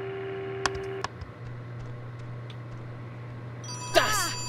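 A ringing phone in the video game Oxenfree, heard as a sharp electronic trill bursting in near the end after a few faint clicks over a steady low hum, fairly loud against the quiet background.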